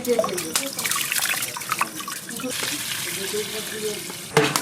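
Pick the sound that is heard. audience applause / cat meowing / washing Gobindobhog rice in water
washing Gobindobhog rice in water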